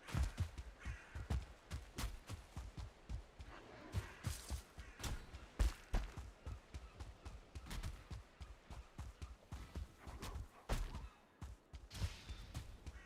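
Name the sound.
crows cawing in video game Valheim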